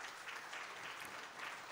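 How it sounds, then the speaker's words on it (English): Faint, steady applause from a conference audience, a continuous patter of clapping heard from a distance. "Let's clap for her, please."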